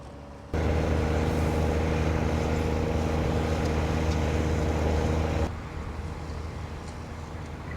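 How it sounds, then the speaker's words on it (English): A vintage tractor engine runs steadily while ploughing at a match, a loud continuous low rumble that drops slightly in level partway through, with no talk. "Always sound nice for the older tractors"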